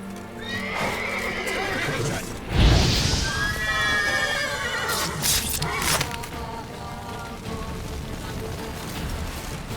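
A horse in the video game The Witcher 3: Wild Hunt neighs loudly, its shrill whinny rising and falling, with hooves clopping and a rainy hiss in the background.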